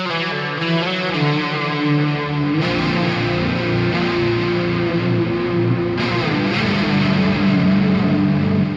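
Heavily distorted electric guitar chords through a Mesa Dual Rectifier amp, shimmering with chorus and washed in reverb and delay, sustained and loud, without any voices.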